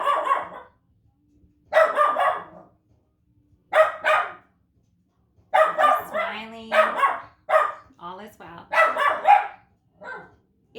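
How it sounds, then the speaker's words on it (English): A dog named Pepper barks loudly in repeated bursts and yips, some rapid and clustered, with a person talking calmly between and over the barks. "It's really interesting that the dog is barking so loudly"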